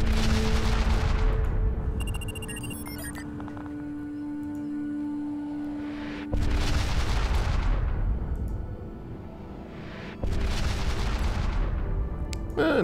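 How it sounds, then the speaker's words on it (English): Nuclear strikes in the strategy game Pandora: First Contact land as three heavy booming blasts, each a loud rumbling burst fading out, spaced several seconds apart with quieter game tones between. "Let's keep nuking Darwin."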